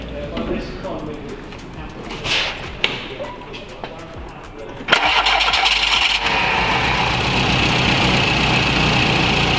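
A 1980 VW Rabbit Pickup engine being cranked and fired up, with a few fumbling clicks and knocks before it catches and settles into a steady, loud idle up close, as people talk.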